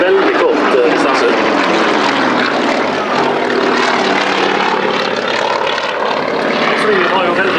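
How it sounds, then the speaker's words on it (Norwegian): A Soviet-built propeller trainer aircraft takes off at an airshow. A loud, steady engine and propeller drone fills the whole stretch, with a voice running over it. "dette flyet kan ta av på så lite som 125 meter uten motvind, så det tar av på en veldig kort distanse"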